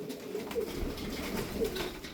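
Tumbler pigeons of the butterfly roller type coo in a low, steady murmur, with a couple of soft coos standing out against continuous background noise.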